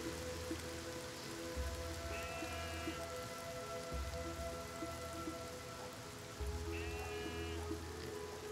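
Steady rain in the city-building game Masterplan Tycoon, a continuous hiss of drops on surfaces under low rumbling game ambience and a few faint tonal chirps, with no one talking.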